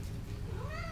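A house cat meows once, a short rising call near the end, close by over a low steady room hum.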